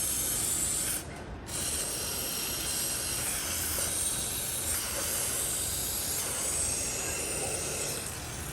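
Aerosol lubricant can sprayed into an old OB-4 signal drill during restoration, a steady, close, continuous hiss running almost unbroken with a brief dip near the start, no talking.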